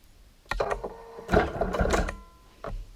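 A Bernina Q-Matic sewing machine stitches quilt binding in two or three close bursts of rapid mechanical whirring, separated by short pauses, with no talk.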